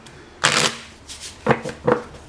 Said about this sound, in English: Get this one shuffled.